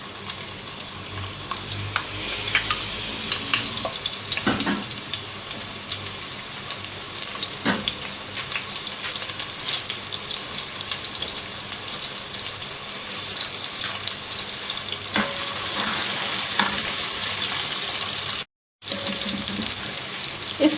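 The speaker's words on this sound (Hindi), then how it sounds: "इसको लाइट गोल्डन फ्राई करेंगे" Sliced onion frying in half a cup of hot oil in a pan over medium heat, a steady close sizzle running throughout with a few light clicks and stirs, and one brief dropout near the end.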